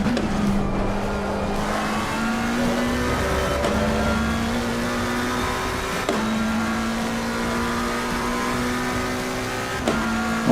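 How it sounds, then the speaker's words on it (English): GT3 race car engine in Assetto Corsa Competizione at Silverstone, loud and steady, climbing through gears with repeated upshift cuts every few seconds as revs build again. "I want to be able to hear that beautiful engine"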